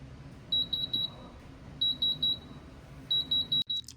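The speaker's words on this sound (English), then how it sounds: "The machine will beep when it's finished." Thermobond book binding machine signalling it has finished with short electronic beeps in three quick groups of three, clear and alone over a low background hum.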